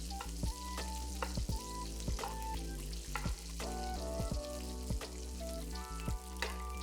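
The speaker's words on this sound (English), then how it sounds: "we're going to baste the salmon to let it absorb all that delicious flavor, and it's gonna keep crisping and cooking our salmon" Salmon fillet sizzling steadily in melted butter with garlic in a pan while being basted, a continuous close crackle punctuated by sharp clinks of a spoon against the pan, with no voices.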